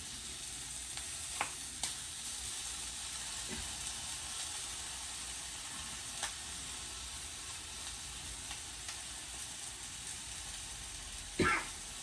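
Chicken breast frying in a pan gives a steady, quiet sizzle with a few brief pops and clicks scattered across it, no talk.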